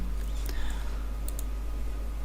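A couple of sharp key clicks from pressing the Alt-Enter combination on a computer keyboard, close and brief over a constant low electrical hum.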